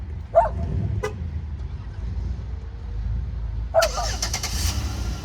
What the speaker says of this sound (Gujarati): જો આ ગાડીમાં કોઈ નથી હું ચાલુ કરું